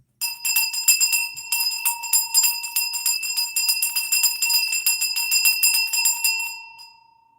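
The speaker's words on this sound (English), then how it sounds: "Let's ring the bell." A hand bell rings rapidly and continuously, bright and close, for several seconds before its last tone fades out.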